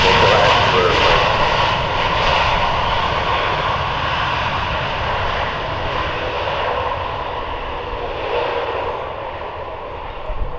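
Airbus A321neo XLR jet airliner flying a display at the Farnborough Airshow 2024, its engines roaring loudly overhead and gradually fading as it passes, with faint crowd noise beneath.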